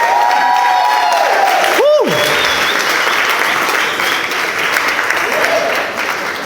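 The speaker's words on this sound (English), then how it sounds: "Another round of applause." Wedding reception guests applaud in a steady, loud wash of clapping that continues throughout, with a few whoops and cheers mixed in and a brief vocal swoop near the start.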